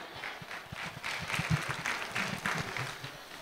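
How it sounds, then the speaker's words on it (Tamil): Audience applause at a closing ceremony in Valli Mahal, Chennai: steady, fairly loud clapping from a hall crowd, continuous throughout without speech. "அவருக்கு ஒரு பெரிய கைத்தட்டில் கொடுங்க"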